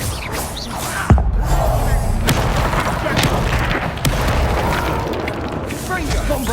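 A Confringo fire spell explodes in Hogwarts Legacy on PS5, a sharp boom near the start that decays into a dense roar of combat noise with further thumps and bursts, while dialogue plays underneath.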